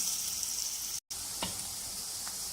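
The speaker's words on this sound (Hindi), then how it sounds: "प्याज हमारे फ्राई होना शुरू हो गए हैं" Onions frying in a pan for an egg and potato korma give a brief, steady, close hiss with a momentary break and one or two faint clicks, and no voices.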